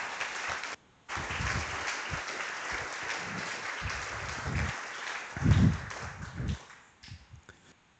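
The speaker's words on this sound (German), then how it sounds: "spenden wir auch mal einen kleinen Applaus" Audience applause at the loscon24 lernOS conference, a dense sustained round of clapping that breaks briefly near the start, resumes strongly, then thins and tapers toward the end.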